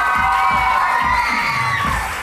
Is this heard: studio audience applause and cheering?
yes